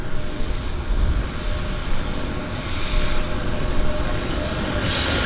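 A floatplane roars steadily as it settles onto the water of Vancouver Harbour, a dense broadband engine drone with splash-like wash beneath, sustained and moderately near without a break.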